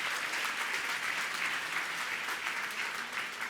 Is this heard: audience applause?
yes